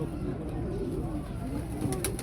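Pigeons coo low and steady at close range, a continuous throaty murmur with faint background noise and no talking.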